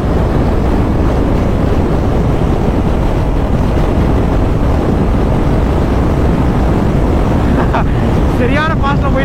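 A Royal Enfield GT 650 motorcycle cruising at around 160 km/h, dominated by loud, steady wind roar and rushing noise across the whole stretch, with the engine buried beneath the buffeting.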